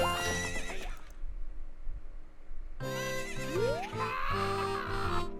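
Horse neighing in the video game Ocarina of Time, a loud whinny, a short pause, then a second rising whinny over game music and hoof sounds.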